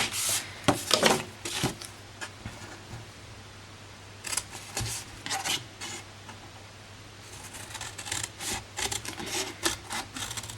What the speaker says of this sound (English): the smaller side we are going to cut off this flap here